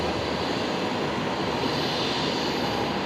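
An airplane with its landing gear still down flies at night near Brisbane Airport, giving a steady, even broadband engine roar at moderate distance with no talk.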